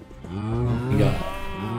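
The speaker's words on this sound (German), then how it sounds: "Die Kühe mobben mich." Cows in the Minecraft video game give a short, close mooing call that rises and then holds for under two seconds, standing alone with no voices.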